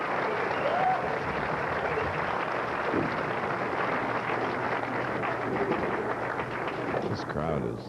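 Crowd at a professional bowling match at Landmark lanes applauding in a steady, dense wash of clapping that runs throughout, with a low hum underneath and some voices mixed in.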